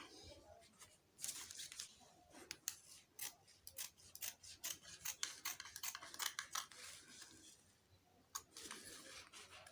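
Scissors snip through paper for an infant dress pattern, crisp repeated cuts in quick irregular bursts with brief pauses, close and moderately loud, no talking.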